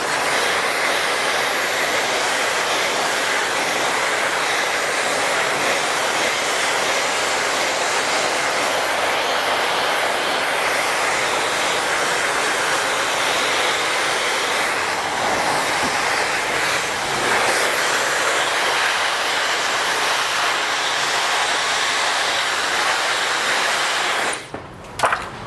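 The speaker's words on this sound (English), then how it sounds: "I'm going to blow all this hair the opposite direction while I come in and get all this hair dry" Hair dryer blow-drying hair for a slicked back style, a steady loud airy roar held close and unbroken for the whole stretch, cutting off just before the end.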